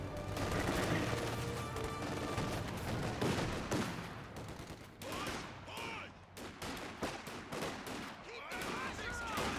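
Rapid gunfire and explosive bursts from a Company of Heroes 2 battle, with a rocket squad firing on grenadiers, dense and continuous, with a voice talking over the fighting.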